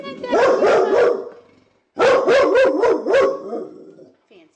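A dog barks in two close, loud volleys of rapid repeated barks separated by a short pause, with a faint whimper at the end.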